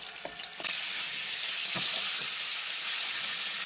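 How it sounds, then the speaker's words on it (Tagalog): Meat fries in a pan before being cooked into adobo, giving a continuous bright sizzle that starts abruptly and holds steady, with a couple of soft clinks of stirring. "Piniprito ko muna."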